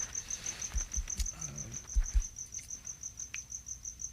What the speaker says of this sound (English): there are crickets